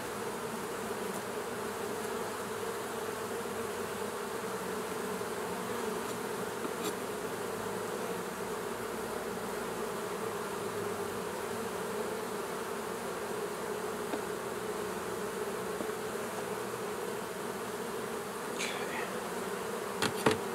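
Honeybees hum steadily and densely from an opened hive box during a late-summer hive inspection, a continuous close drone that holds evenly at the same level from start to finish with no voices.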